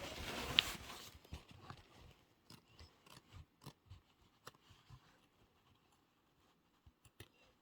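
Scissors trimming fabric for a tea towel, a series of soft snipping cuts in uneven rhythm after a brief rustle at the start, close and quiet with no talk.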